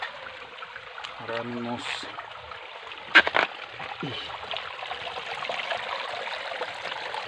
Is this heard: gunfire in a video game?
no